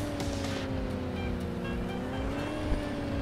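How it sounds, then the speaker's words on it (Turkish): A car engine in the mobile game Car Parking Multiplayer, a steady droning tone with gently rising pitch as the car accelerates slowly, loud and continuous with no talking. "Bu gaza bastı mı gidiyor araba."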